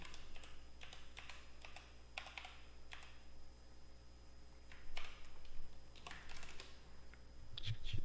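Rapid typing on a computer keyboard, quiet close clicks in uneven bursts with short pauses and a slightly busier flurry near the end.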